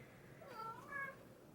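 A pet cat gives two short, faint meows close by in a quiet indoor room, each a brief rising-and-falling call a fraction of a second long.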